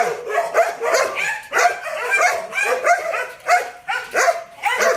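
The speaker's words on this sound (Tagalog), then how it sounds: "Pero maingay yung mga aso nila." Dogs bark repeatedly and close by in quick, overlapping bursts, some higher-pitched yips among them, with no talking.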